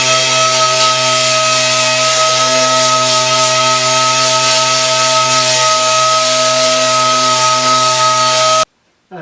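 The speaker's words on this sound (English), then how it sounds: "Got my DA here with some 80 grit paper. Let's clean up this weld and shrink area, nice and light" A dual-action sander running 80 grit paper over a weld and shrink area on a handmade reverse-curve steel fender, a loud steady whirring drone with constant hum, stopping abruptly near the end.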